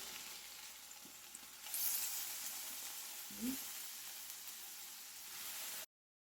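A burger patty, freshly flipped, sizzles on a grill with a steady close hiss, swelling briefly early on, with one soft spatula thud midway before the sound cuts off abruptly.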